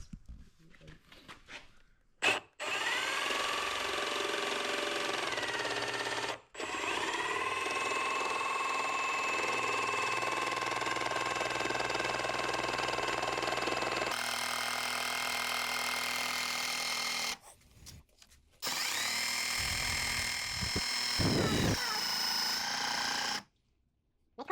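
A jigsaw cuts material for a portable speaker build in long, loud buzzing runs, stopping and restarting several times with short quiet gaps in between.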